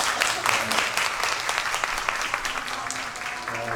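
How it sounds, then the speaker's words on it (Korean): A large audience at a 2025 women's conference applauds loudly and steadily throughout, a dense, sustained wash of many hands clapping with no voices standing out. "우리 서로 환영하는 의미에서 크게 박수해 주시기 바랍니다"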